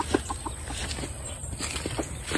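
Young chickens in a new cage cluck in short, scattered calls at moderate distance over a steady background hiss.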